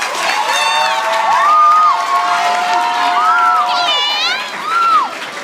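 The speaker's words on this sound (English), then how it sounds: "Please give them a round of applause." A school audience applauds and cheers for young ladies at an empowerment presentation, loud clapping mixed with high excited shouts and whoops from children, swelling and fading across several seconds.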